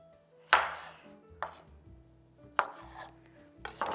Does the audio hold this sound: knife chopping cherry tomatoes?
yes